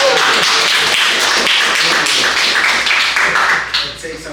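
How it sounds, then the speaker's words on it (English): An audience claps for two people who completed a 12-week program, dense lively applause throughout with voices mixed in, tapering off toward the end. "so we want to clap it up for them."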